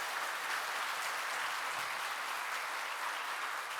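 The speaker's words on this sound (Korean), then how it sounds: "여러분 뜨거운 박수로" A church congregation at Sunday service claps warmly to welcome newly registered members, a dense, even round of applause heard at moderate distance that carries through with no speech over it.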